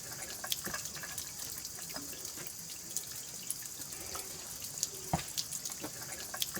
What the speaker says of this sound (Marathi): इथे खडकातून पाणी झिरपत होतं